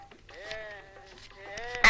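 Goat at a market sale, a single drawn-out wavering bleat close up lasting over a second, followed by a brief sharp bump at the end.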